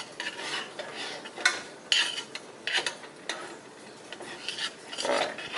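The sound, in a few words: stirring peanut butter raisin granola mixture in a pot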